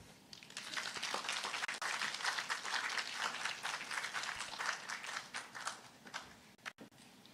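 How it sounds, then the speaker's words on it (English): A symposium audience gives a sustained round of applause for Mr. Ramnath, dense clapping that swells and then thins to a few scattered claps at the end. "Let's give Mr. Ramnath another round of applause"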